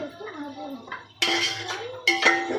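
Onions frying in a pan are stirred with metal utensils, giving two bursts of close scraping and clinking over a soft sizzle, while a voice talks quietly at the start.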